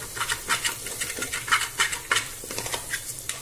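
Goat head curry masala fries in oil in a pan while a metal spoon stirs it, scraping the pan in quick, uneven strokes over a soft background sizzle.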